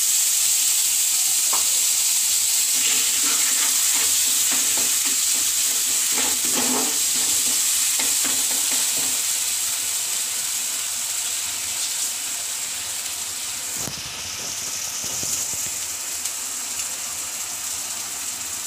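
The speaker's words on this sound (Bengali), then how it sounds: "এই পর্যায়ে আমি সামান্য জল দেব।" Water poured into a hot pan for rohu fish korma sets off a loud, hissing sizzle with bursts of spattering and scraping, gradually easing to a steady simmering fizz.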